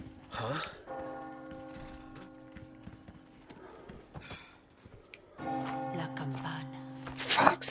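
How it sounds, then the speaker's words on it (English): Church bells ring out in the Resident Evil 4 VR video game village, tolling in sustained layered tones amid clip-clopping hooves and scattered game noise, with a loud burst near the end. "Oh, the bells!"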